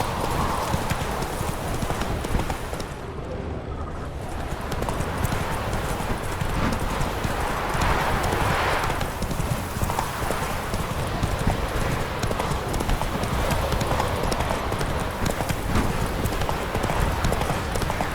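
Roach, the horse in The Witcher 3, trots with a steady clip-clop of hooves that runs throughout, with a busy game soundscape and faint voices behind.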